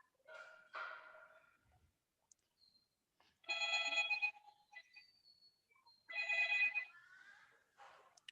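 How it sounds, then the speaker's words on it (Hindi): A phone rings in two clear electronic trilling bursts, a few seconds apart, quiet and somewhat distant, with faint scattered sounds between. "फोन आ रहा है किसी के घर में।"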